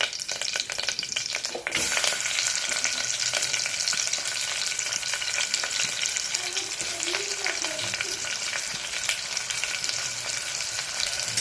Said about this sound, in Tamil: வெங்காயம் நல்லா வதக்கி விடுங்க.